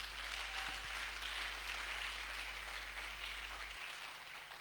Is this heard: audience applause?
yes